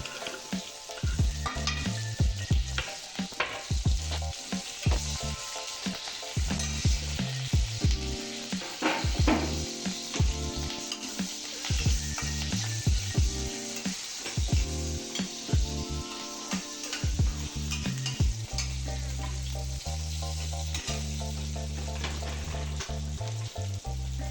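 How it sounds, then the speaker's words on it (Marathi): Chopped green chillies and salt fry in hot ghee in a kadhai with a steady close sizzle and crackle, layered under a continuous tonal musical backdrop with no talking. "तूप गरम झाल्यानंतर त्यामध्ये बारीक केलेली मिरची टाकून थोडेसे मीठ टाकून ते परतून घेतले"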